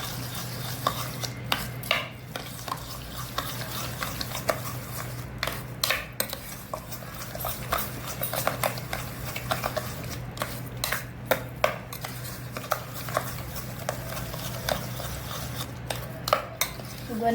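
Jamun fruit pulp stirred with sugar in a pot, a steady scraping of a spoon against the vessel with repeated clinks, close and continuous over a low background hum.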